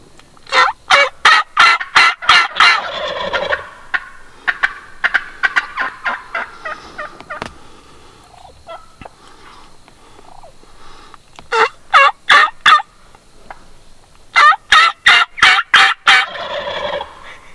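Wild turkey gobblers gobbling loudly and close, rapid rattling bursts in several clustered bouts with quieter clucking and gaps between, no talking.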